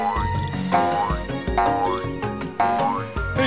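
A cartoonish frog in the game Dog on a Stick croaks three or four times in a bouncy, springy rhythm with rising boing-like tones over a musical backdrop, loud and close, with no speech.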